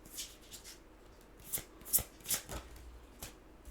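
Oracle cards being shuffled by hand, a series of crisp riffling bursts with a few sharper snaps in the middle, close and fairly quiet, with no talking.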